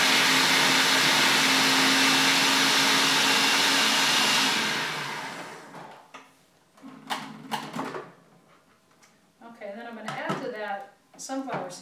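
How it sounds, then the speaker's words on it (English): A food processor grinds sesame seeds, garlic and shallot with a loud, steady whirring roar that cuts off after about five seconds, followed by clattering and a person talking. "So I'll just put them in the processor."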